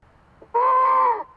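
A Tesla goat horn sound effect from the 2020 holiday software update gives one short, nasal, bleat-like honk lasting under a second, heard clearly on its own.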